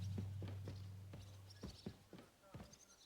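Horse hooves clip-clopping at a walking pace in the medieval game Kingdom Come: Deliverance II, a steady sequence of distinct, moderately close hoof strikes over a low background hum.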